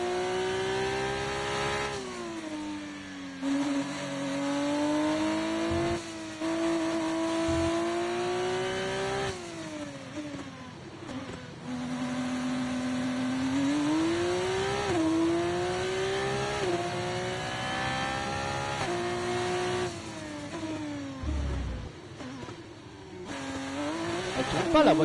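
An F2 race car in the F1 24 video game runs a lap, its engine whining loudly as it revs up and drops through repeated gear changes, with brief tire squeals and occasional talk.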